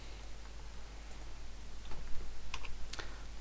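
Words typed on a computer keyboard produce a run of quick plastic key clicks, sparse at first, then denser and louder toward the end, close and without talk.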